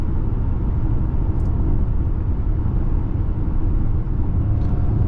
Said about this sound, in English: As you can see, the propulsion sound kicks in.